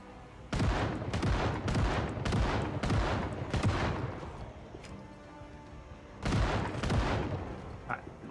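Repeated shotgun blasts in a zombie survival video game, about a dozen booming shots in quick bursts of roughly one per half-second, with a pause and then another volley, loud and close with no talking.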